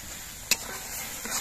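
Peas and spices fry in a pan for a broccoli curry, giving a low steady sizzle broken by a single sharp utensil scrape.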